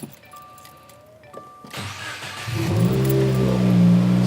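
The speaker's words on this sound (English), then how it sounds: "So now that it's reflashed, we turn the car back on" A Subaru WRX engine cranks and fires after a brief quiet ding from the cabin, then settles into a loud, steady idle close by, with no one speaking.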